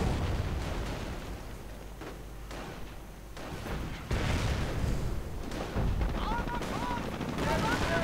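In a WWII strategy video game, gunfire and explosions rumble in a dense, continuous mix of bursts and heavy booms as a battle between tanks and infantry goes on, with a voice talking over the fighting.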